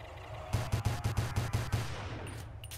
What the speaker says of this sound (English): I have to use my pistol for now.